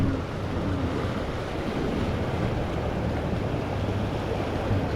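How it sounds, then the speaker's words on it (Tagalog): A strong flood-swollen river in Marilao, Bulacan rushes in a loud, continuous broadband roar with wind buffeting the microphone, no voices present. "lakas ng ilog"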